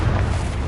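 Booming explosion from the Confringo explosive spell in the video game Hogwarts Legacy, a short, loud, dense low-heavy blast filling the whole moment.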